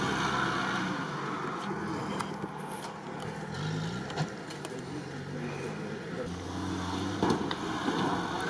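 A Lada Niva engine, a Zhiguli motor, runs steadily at low revs off-road in deep sand, a rough droning hum with some rattles, while a person talks over it.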